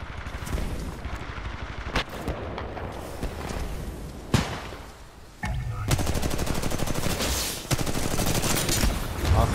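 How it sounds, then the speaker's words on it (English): Rapid automatic gunfire and explosive bursts in the Titanfall shooter game, dense continuous volleys with a few sharp louder shots and a brief lull midway. "Honestly, I'm just shooting at anything I can."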